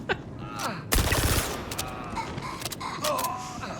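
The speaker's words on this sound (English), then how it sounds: "Shoot the gun!" Gunfire in the space game Star Citizen: a loud burst of shots near the one-second mark, followed by scattered sharp reports and mechanical clatter over a noisy, busy background.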